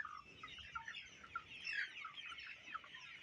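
Chickens on a poultry farm in the rainy season, huddled together against the cold, give soft, overlapping clucks and murmurs. The sound is close but quiet and continuous, with no talk.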